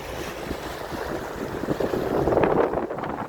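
A strong gusty wind of about 40 mph roars across an open shoreline campsite, a loud continuous rush buffeting the microphone, with the wash of waves mixed in.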